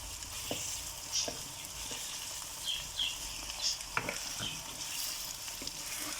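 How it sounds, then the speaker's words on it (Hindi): Chicken frying with garam masala, garlic and ginger in a pan for karahi, a steady hiss with occasional stirring clatters and crackles, close by and fairly quiet. "गरम मसाला और लहसुन अदरक इसके साथ हम इस चिकन को भी फ्राई कर दें।"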